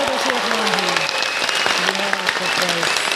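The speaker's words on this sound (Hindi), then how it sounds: "दशरथ मांझी के लिए जोरदार तालियां बजनी चाहिए" A crowd in an auditorium claps loudly and continuously, dense applause with voices and cheering woven through it.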